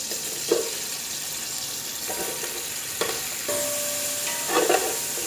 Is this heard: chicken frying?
yes